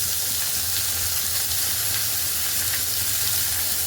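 Onions and green chilies frying in a pan with a steady, dense sizzle, close and continuous throughout, with no voices.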